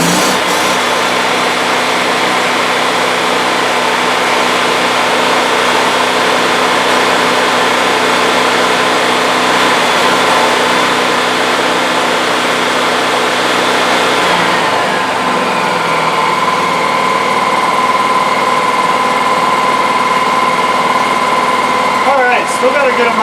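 A Miller Bobcat 250 EFI engine-driven welder drones loudly and steadily at run speed, then drops to a lower, quieter idle hum partway through, with a faint steady tone lingering after.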